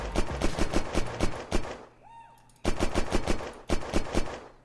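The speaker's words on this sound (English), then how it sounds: "if I see any trees I can shoot" Heavy machine gun firing in Unturned at trees, loud rapid bursts of shots with a short pause midway where a descending whistle-like tone sounds, then more bursts.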